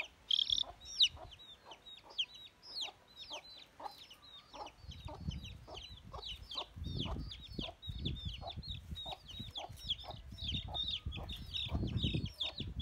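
Three newly hatched chicks peep in rapid, high, repeated chirps, close and continuous, with occasional clucks and faint rustling in the background.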